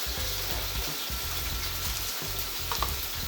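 Mushrooms frying in a home kitchen pan for a quick family meal, giving a steady close sizzle with soft stirring scrapes and gentle crackles throughout, no voices.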